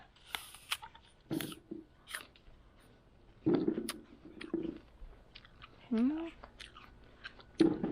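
Someone eats a fresh, ripe apple picked in an orchard, with several short crunchy bites and chewing bursts spread across the clip, fairly close, amid light outdoor background noise.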